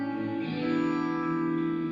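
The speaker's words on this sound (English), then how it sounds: "I recorded some plate reverb from a real plate" Sustained tone ringing out through a real plate reverb in a studio, from a guitar recording session for an indie rock track, a dense steady wash of harmonics holding evenly for the whole stretch with no voices.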